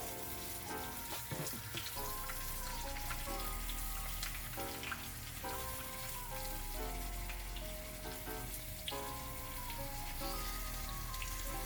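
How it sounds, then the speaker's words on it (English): Apples for tarte Tatin sizzling in caramel in a pan: a soft, steady bubbling sizzle with faint crackles throughout, under quiet background music, with no talking. "you can hear that they're starting to cook a little bit in the caramel here"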